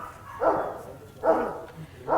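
Three evenly spaced dog barks on a farm ring out about a second apart, moderately near, with no talking.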